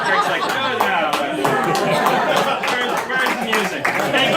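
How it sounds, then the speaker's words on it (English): One guest at a wedding claps steadily through the speech, the hand claps blending with murmuring chatter of the gathered crowd nearby as people talk. "Greg's clapping me off"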